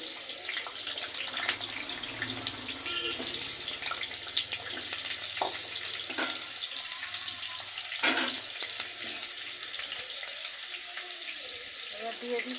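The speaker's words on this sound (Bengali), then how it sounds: "তেল আমার গরম হয়ে গেছে" Potato pieces fry in hot oil for a Jamai Sasthi mutton curry, making a loud, steady, close hiss with a few clinks and bubbling pops throughout.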